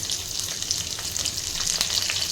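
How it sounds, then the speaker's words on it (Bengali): Cubed onions fry with chopped ginger and garlic in a pan for restaurant-style chilli chicken, giving a close, constant crackling sizzle with light stirring scrapes throughout. "এবার দিয়ে দিচ্ছি কিউবস করে কেটে রাখা পেঁয়াজ।"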